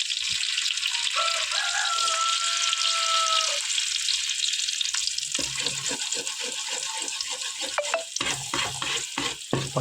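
Beaten egg poured into hot oil for egg noodles, frying with a steady close hiss that runs throughout, with brief stirring or scraping noises and a few tonal clinks in the first few seconds.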